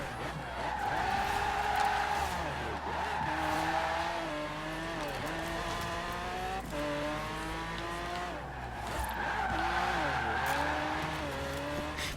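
A Lamborghini Aventador drifts in Forza Horizon 4, tires squealing in long sliding waves over a loud engine drone that rises and falls across several passes.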